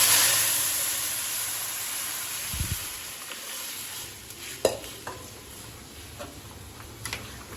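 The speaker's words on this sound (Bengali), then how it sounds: "এখন এই ভাজা তেলের ভিতরে ভাজা মশলার ভিতরে আমি হচ্ছে এই যে ডালটা ছেড়ে দিচ্ছি" Lentils poured into hot oil with fried spices in a pan, giving a steady soft sizzle with scattered stirring scrapes and light ticks of the spoon, fairly quiet and close, no voices.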